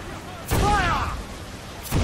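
Cannon fire from ships in a naval battle in Assassin's Creed IV: Black Flag, two heavy booms about a second and a half apart, with a voice speaking between them.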